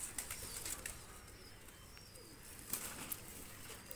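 Running pigeons, a male and a female, flap their wings on release with quick soft flutters and a couple of sharper wing claps amid faint, quiet ambience.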